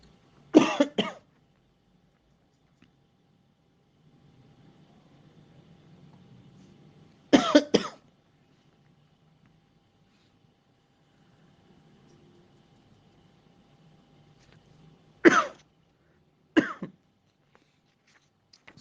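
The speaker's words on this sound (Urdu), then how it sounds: "سوری یہ مجھے کچھ کھانسی" Sharp bursts of coughing from a speaker during a religious lecture, four separate fits spread out over a long stretch of near silence.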